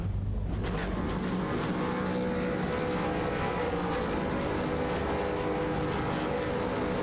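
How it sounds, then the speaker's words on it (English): V8 race cars in the iRacing sim at Algarve (Portimão) revving before the green flag: a loud, dense, steady engine roar that fills the whole stretch without letup and with no talk. "Revs are up, and we're going to get our green flag from Barney on the stands"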